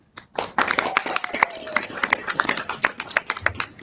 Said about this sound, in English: give yourselves a round of applause for coming out tonight